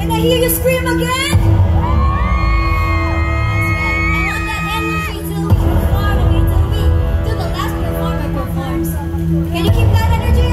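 Large outdoor crowd at a New Year countdown concert in Eastwood City screams and cheers in loud sustained bursts, with an MC shouting over them and music continuing underneath.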